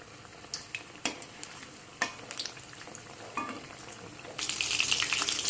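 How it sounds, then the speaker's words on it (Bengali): Pakoras frying in oil on medium heat give a quiet, low sizzle broken by a few sharp utensil taps, then a sudden louder burst of hissing spatter near the end. "এখন মিডিয়াম হিটে এগুলোকে আমি ফ্রাই করে নেব"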